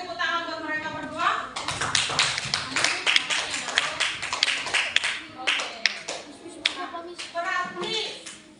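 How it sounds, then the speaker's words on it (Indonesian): Primary school pupils clap in a classroom for two classmates, a run of quick, uneven hand claps that starts after a moment of children's chatter and keeps going, with kids' voices mixed in. "beri tepuk tangan buat mereka berdua."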